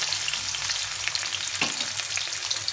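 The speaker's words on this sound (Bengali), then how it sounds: "এখন কিছুটা আর তেল দিয়ে দিলাম দিয়ে এর মধ্যে গাজরটা ভেজে নেব" Carrots fry in a little oil in a pan, giving a dense, even sizzle that stays loud and close throughout, with no voices.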